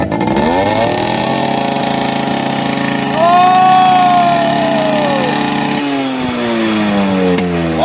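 An old Yamaha RX 100 motorcycle engine running loud and close, a harsh two-stroke rattle with a rising rev in the middle before settling back to a steady drone.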